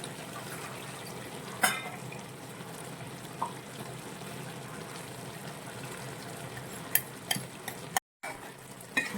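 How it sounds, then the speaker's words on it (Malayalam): A spoon stirs ground roasted-coconut masala into a simmering chicken curry, producing a soft, steady wet churning with a few sharper clinks against the pot and a faint sizzle underneath. "ഈ അരപ്പ് നമ്മൾ അരച്ചെടുത്ത ഈ മസാല വറുത്തരച്ച തേങ്ങയും എല്ലാം കൂടി ഇട്ട് ഈ അരപ്പി നമ്മുടെ ചിക്കൻ കറിയിലോട്ട് നന്നായിട്ട് ഇളക്കി യോജിപ്പിച്ചിട്ട് വെക്കാം"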